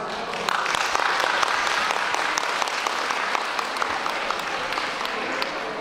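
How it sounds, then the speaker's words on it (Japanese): An outdoor yosakoi dance festival crowd applauds steadily before a team's performance, a dense, even wash of many hands clapping throughout, without talk over it. "どうぞ温かいご声援手拍子よろしくお願いいたします"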